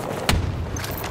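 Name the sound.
grenade explosion in Battlefield, from a video game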